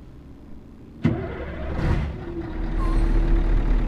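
A truck engine in Euro Truck Simulator 2 starts with a sharp thump and then settles into a low, steady rumble, with a hiss like an air brake partway through. The sound is close and loud, and nobody speaks.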